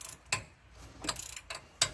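Four sharp, separate ratcheting clicks from a 3/8-inch drive ratchet loosening a rear brake bolt on a Dodge Journey, close and fairly quiet, no talking.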